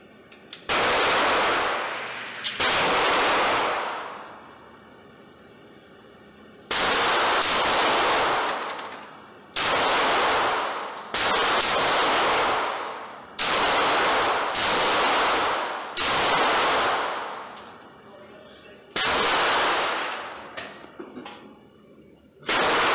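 A Smith & Wesson M&P 45 Shield pistol fires about a dozen sharp, loud shots at close range, some in quick pairs and others spaced apart, each followed by a short echoing decay.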